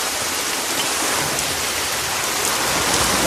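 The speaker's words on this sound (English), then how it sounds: "I'm not sure where all this rain came from." Steady rain pours down on a July day, a dense, even hiss of drops filling the whole stretch without pause, close and fairly loud with no voices.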